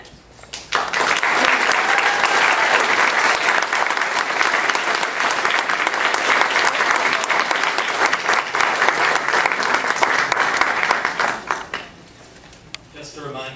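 A crowd at a community association mayoral forum applauds loudly and steadily for about eleven seconds, then the clapping tapers off and a voice begins speaking.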